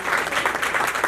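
Loud applause from the audience at a memorial mela held in an arts hall, many hands clapping in a dense continuous roar of claps that stays even throughout the short stretch, with no talk over it.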